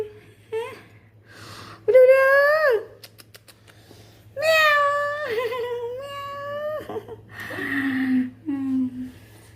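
Several kittens meow in a string of high, wavering cries, some long and plaintive, some short, close by over a low steady hum.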